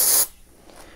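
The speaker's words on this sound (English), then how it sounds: "I'm just going to spray this straight onto the back of the canvas." An Anko aerosol spray can sprayed onto the back of a canvas, a short sharp hiss lasting about a quarter second, close and loud, then quiet.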